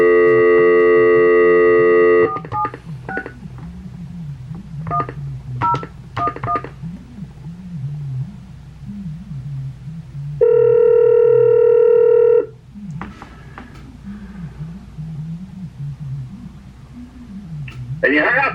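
Phone line tones after a call is hung up: two long steady multi-tone bursts, each about two seconds, separated by a stretch of talk, with voices speaking over a low background hum.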